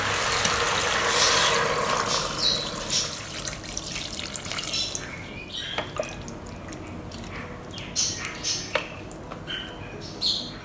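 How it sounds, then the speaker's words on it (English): Water poured into a pressure cooker pot over a whole duck for braising, enough to cover it, starting as a full rushing pour and thinning into splashes and drips, close by in a kitchen. "And what we need to do now is just add water."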